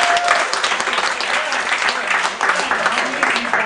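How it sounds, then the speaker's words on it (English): A theater audience at an improv comedy show gives a lively round of applause. The close, loud clapping comes in uneven swells and carries on for a few seconds without any talking. "just with a little round of applause, how many people have seen live improv before?"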